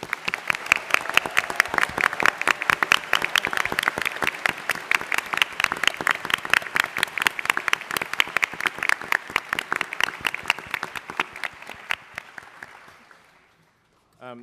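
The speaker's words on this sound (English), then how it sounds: "Please give them a wonderful round of applause" Audience applause for two top middle school teams at the National Science Bowl championship, a loud sustained round of many hands clapping that fades out near the end.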